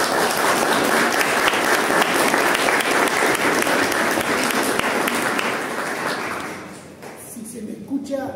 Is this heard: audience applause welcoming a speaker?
yes